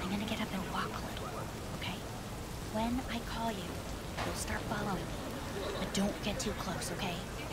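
Rain falls steadily in the video game Cyberpunk 2077, a continuous hiss of drops hitting surfaces, with faint tonal game sounds and a voice murmuring quietly underneath.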